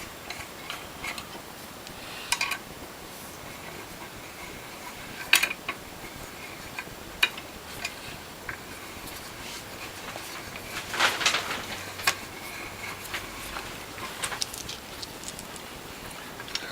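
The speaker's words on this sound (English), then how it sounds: "the first thing I'm going to do is I'm going to put in the four flathead screws into the hydraulic posts." Flathead screws being fitted into the hydraulic posts of a WHF or Norwalk juicer, scattered light metallic ticks and clicks with a few sharper taps in a quiet room.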